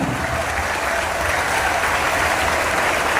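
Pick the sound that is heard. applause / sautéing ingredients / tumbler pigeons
applause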